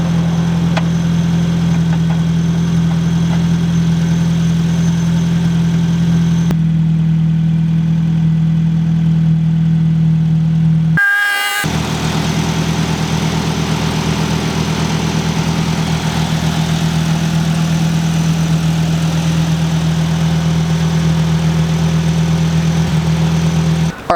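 An old budget car idles with no muffler on its exhaust, a loud, steady, throaty drone that runs unbroken for over twenty seconds and briefly changes tone partway through.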